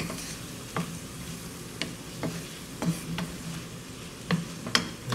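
Rice is stirred in a skillet alongside shrimp, with a steady low sizzle broken by several sharp scrapes and clinks of the utensil against the pan at irregular intervals, close and moderately loud.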